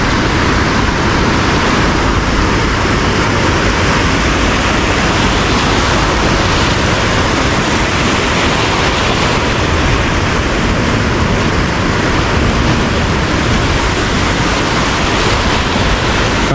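Loud, steady roar of rushing river water at the Leuwikeris dam on the Citanduy River, a dense unbroken wash of noise with no pauses and no voices throughout.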